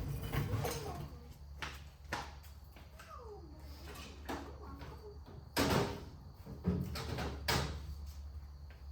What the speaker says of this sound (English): So right there, I have to knock it off. I'm gonna hammer real quick.